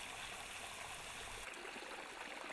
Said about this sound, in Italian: riempie torrenti e laghetti di montagna